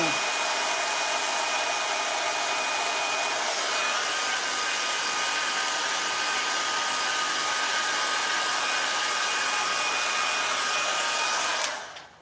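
A hair dryer blows steadily and loudly on a balloon figure for about twelve seconds, a constant close whoosh with a faint whine, then cuts off abruptly at the end.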